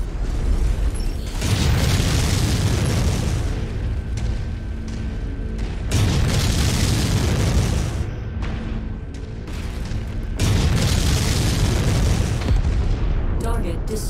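A target mech explodes in MechWarrior 5: Mercenaries, heard as several loud, booming blasts spaced a few seconds apart over constant heavy rumble, with a voice speaking in between.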